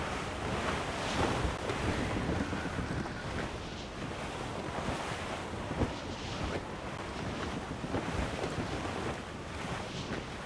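A sailing ship moves across open ocean in the video game Assassin's Creed Rogue. Waves wash and surge steadily under a constant rush of wind, with no voices.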